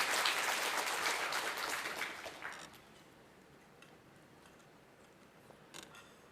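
Audience applause at a PyCon Korea 2019 lightning talk session, fairly loud for the first two and a half seconds, then thinning out to a faint room hush with a few scattered claps.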